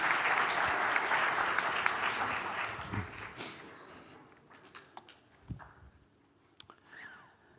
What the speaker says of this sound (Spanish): Un aplauso para Joseba Alonso